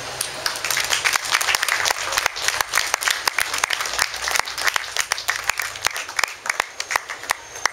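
An audience at a poetry reading at a writers' evening applauds, a sustained crowd of clapping hands with sharp irregular claps standing out, steady and fairly close throughout without speech.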